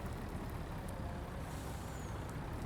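A truck with air brakes rolling by in the farming video game Farming Simulator 19, a steady, dense engine roar with a faint high hiss, loud and close throughout.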